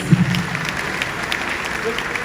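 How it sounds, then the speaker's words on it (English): Applause rises from the audience at a Nigerian Bar Association conference in Enugu, a short, fairly steady burst of clapping heard somewhat at a distance amid room noise, with a voice faintly underneath. "Please, another round of applause for that."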